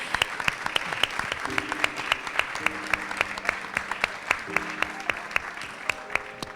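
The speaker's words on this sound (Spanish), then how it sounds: "Y hacemos extensivo el aplauso para Florencia Halfon." An audience at a book presentation applauds, with steady, moderately loud clapping building into a continuous rattle of hands, while a few voices and music come faintly underneath.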